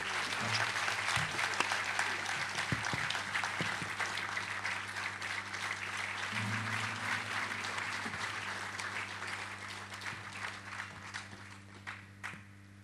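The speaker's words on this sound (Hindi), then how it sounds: "put your hands together and welcome our star for the evening, none other than Ankita Kumar" At a school stage event, an audience applauds to welcome the evening's star performer, with sustained crowd clapping over a steady low electrical hum from the sound system, continuing at an even level and easing slightly near the end.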